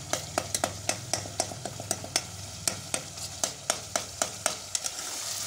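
Onions fry in a pan under a steady sizzle while a spoon stirs them in quick, regular scraping strokes, about three a second, close and clear with no talking.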